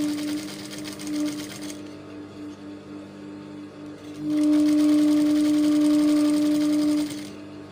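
A sewing machine stitches back lining in two loud bursts, first briefly and then in a longer steady run, with a quieter hum between them.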